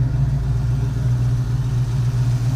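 A 1970 Dodge Challenger's big-block V8 idles steadily with a deep, even burble and no voices over it.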